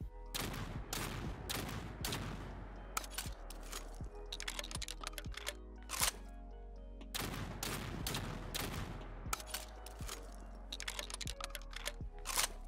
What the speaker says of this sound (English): I'll go ahead and fire all the rounds and let you see the reload and hear it for yourself